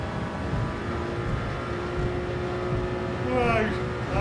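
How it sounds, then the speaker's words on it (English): Turbo whistle from a race car in Gran Turismo 7, a thin rising whine swelling near the end over steady engine drone while someone talks throughout. "Cool that you really hear the turbo"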